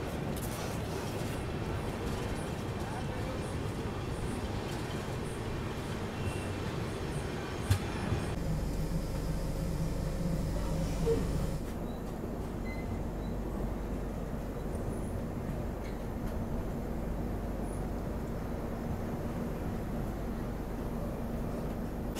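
Ranchi Rajdhani Express standing at Renukut station, heard from inside a first class AC coach: a steady low rumble and hum of the train and station, with a couple of faint clanks and a brief tonal squeal midway.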